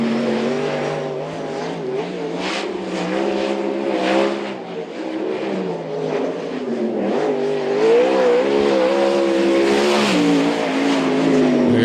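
A sprintcar engine roars through its start-up lap at Archerfield Speedway, loud and sustained, its pitch climbing and falling through gear and throttle changes, while a commentator's voice runs faintly underneath.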